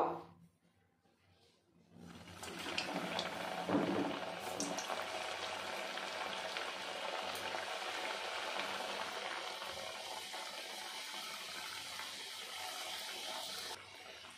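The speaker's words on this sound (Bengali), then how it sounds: "এখন আমি নিমকিগুলো ভেজে নেব" A steady, loud sizzle of nimki, maida-flour snacks, frying in hot oil fills the clip after a quiet start, continuing evenly until the end.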